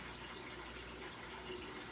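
Water pouring into a damaged room through a leak: a faint, steady broadband gush and spatter, continuous and even, heard alone without voices.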